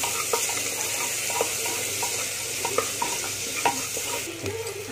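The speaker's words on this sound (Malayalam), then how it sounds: "1/2 ടീസ്പൂൺ ഉപ്പിട്ട് കൊടുത്തിട്ട് ഒന്ന് ഇളക്കിയെടുക്കുക" Onions fry in a pan with a little salt, a steady sizzle under repeated close stirring scrapes and soft clicks of the spoon against the pan.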